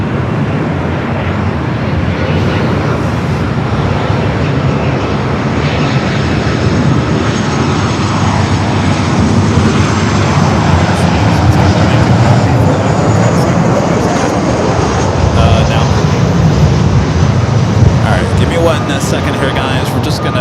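A SkyWest airliner departing LAX makes a loud, sustained engine roar that stays strong throughout, while radio voices talk over it.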